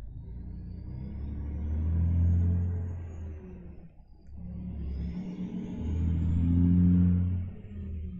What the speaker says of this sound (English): As you listen to a truck go by.